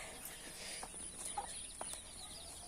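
Soft, distant clucking from a few backyard hens among young poultry on a village farm plot, short scattered calls over a quiet outdoor background with no talking.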